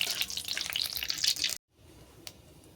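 Panch phoron, a five-spice tempering, fries in oil with a close, bright sizzling crackle for about a second and a half, then cuts off abruptly into faint background with a single small tap.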